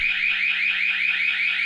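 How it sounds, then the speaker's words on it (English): A loud, steady alarm sounds on a building site where boarding and skimming work is under way, its shrill tone pulsing rapidly and evenly throughout without a break. "There's an alarm going off"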